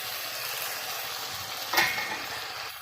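Spice paste of chilli, onion, garlic and ginger sizzling as it goes into frying onions and tomatoes, a steady fry with one brief louder hiss and stir midway, no talking.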